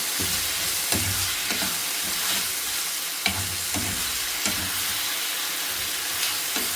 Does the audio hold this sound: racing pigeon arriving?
no